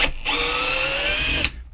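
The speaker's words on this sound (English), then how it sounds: "Very powerful, this drill," A powerful power drill runs at a steady high whine on a boat tiller being renovated, one continuous burst of close, loud drilling that stops abruptly near the end.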